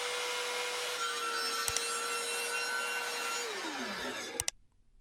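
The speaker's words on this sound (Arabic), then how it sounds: "ننزل بسلاح المنشار" A circular saw mounted under a wooden table base plunges its spinning blade up through the board, a steady loud whining cut with a sharp tick midway, the pitch dropping as the motor winds down near the end, followed by silence.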